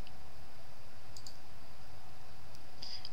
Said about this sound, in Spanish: vamos a volver a hacer clic